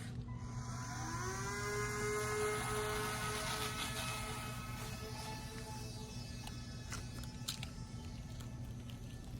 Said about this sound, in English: So now we're ready for takeoff.